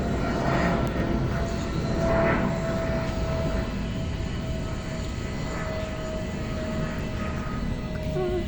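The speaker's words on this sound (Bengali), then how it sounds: "কি প্লেন যাচ্ছে কত উঁচু দিয়ে যাচ্ছে নিচু দিয়ে যাচ্ছে প্লেনটা" An airplane drones steadily overhead, a broad continuous engine roar holding at the same level throughout.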